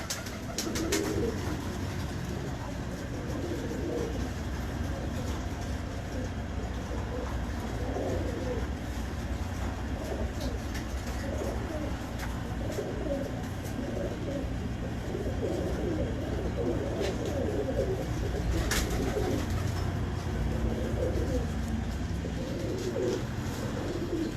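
Pigeons coo repeatedly in a loft, soft rolling calls layered over a constant noisy background with occasional rustles, fairly near and continuous throughout.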